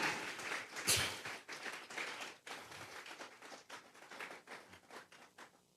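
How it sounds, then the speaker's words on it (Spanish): A church congregation at a Sunday morning service claps in uneven bursts, fairly faint and irregular, with sharp individual hand claps standing out and the clapping thinning toward the end. "Vamos a regalarle ofrenda de palmas al Dios de la gloria."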